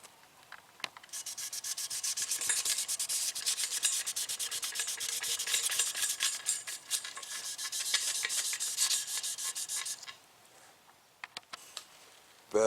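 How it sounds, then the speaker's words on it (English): Wet sanding an engine valve cover with 600-grit sandpaper, a close, steady rapid back-and-forth scrubbing for about ten seconds that then stops, leaving a few faint handling noises. "Now I go ahead and start wet sanding."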